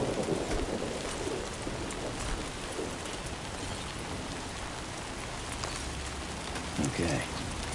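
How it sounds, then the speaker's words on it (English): Steady rain in the video game Death Stranding 2 hisses and patters continuously at moderate volume, with low rumbles like distant thunder beneath it. "No end to this rain."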